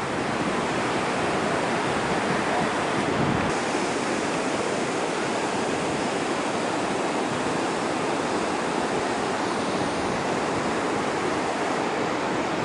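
Steady broadband wash of ocean surf on a beach near a lighthouse at Ratnagiri, loud and continuous with no distinct breaks, a brief dip partway through, no voices.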